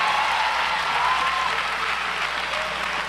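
A church congregation applauding during a service, with sustained, dense clapping from many people at a steady level, and a faint voice heard over it.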